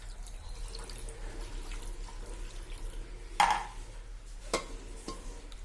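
Water is poured over stuffed dolma in a cooking pot, a brief splash standing out against a quiet room, followed by a couple of soft drips and knocks.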